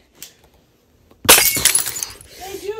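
Crashing smash of a door breaking in a video game, heard as a sudden loud shattering burst with glassy debris trailing off, preceded by a brief quiet tap and followed by a faint voice.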